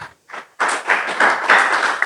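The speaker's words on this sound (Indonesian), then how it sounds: "Tepuk tangan bagi Tuhan kita." Church congregation at a Sunday service clapping together, a few scattered claps first, then a dense, loud wave of applause that carries on steadily.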